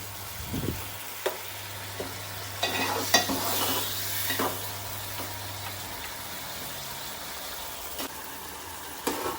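Kokum and tomato tempering for an Agri-style mandeli fish curry simmering and sizzling in a pan, a soft steady fry with occasional stirring clinks and scrapes, no voices.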